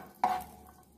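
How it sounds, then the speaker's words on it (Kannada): Raisins dropped into a hot pan to fry, heard as a single close stirring scrape and brief sizzle that quickly fades. "ಇದೇ ಪ್ಯಾನ್ಗೆ ಸ್ವಲ್ಪ ದ್ರಾಕ್ಷಿ ಹಾಕಿ ಫ್ರೈ ಮಾಡ್ಕೊಳ್ಳಿ. ಇದು ಉಪ್ತದೆ ಅಲ್ಲಿವರೆಗೆ ಫ್ರೈ ಮಾಡಿ."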